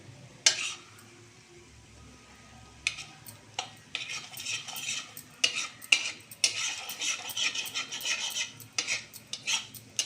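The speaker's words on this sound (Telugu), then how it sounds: "కొంచెం అలా కలబెడుతూ ఉండాలి." A spoon stirring cream in a pan as ghee cooks, with repeated close scraping and clinking strokes over a soft sizzle, irregular and busy toward the end.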